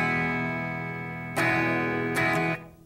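A clean electric guitar chord rings out through an amp, sustained, then two more strums follow before the sound cuts off.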